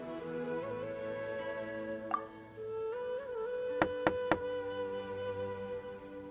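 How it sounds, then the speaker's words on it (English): A door is knocked in the video game Genshin Impact: three quick, sharp raps in an even rhythm, standing out over a steady bed of game music. "Let's try knocking."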